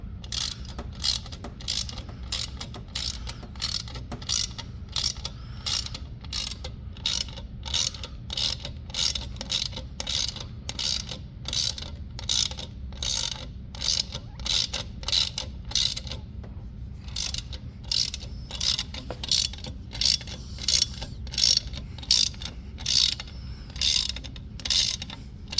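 An Icon ratchet with a 13mm socket working a nylon lock nut gives off a long run of rapid, evenly spaced clicks in bursts, close and crisp, pausing briefly midway before continuing.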